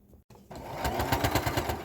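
A sewing machine stitching a warrior loincloth starts up after a brief pause and runs in a fast, steady mechanical rattle, close and fairly loud.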